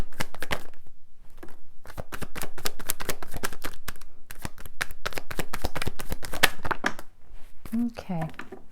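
Tarot cards are shuffled and riffled close by, a dense run of crisp slapping and flicking bursts in quick uneven rhythm, with a voice speaking briefly near the end.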